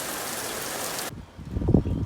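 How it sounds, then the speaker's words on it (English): A heavy rain downpour in North Weymouth during a flash-flood day: a steady, dense hiss of falling rain that cuts off abruptly, then gives way to softer, patchier dripping and splashing nearby. "We just had another pretty good downpour"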